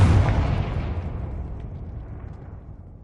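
A Confringo blasting spell in a wizard video game detonates as a single loud, deep explosion that hits at once and then rumbles away, decaying steadily over about three seconds.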